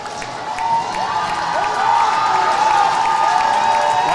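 A packed arena crowd at a college club hockey game between Arkansas and Missouri, a steady roar of cheering and shouting that builds slightly, with a sustained whistle-like tone on top.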